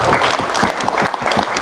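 An audience at a school career day claps and applauds steadily, a dense sustained wash of many hands close by, with no talking over it.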